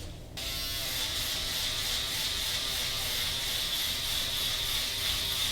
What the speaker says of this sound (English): I'm going to come with my Andes Pro Foil shaver